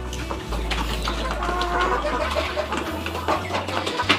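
Chickens in a livestock pen cluck softly here and there over a steady low hum, with no talking.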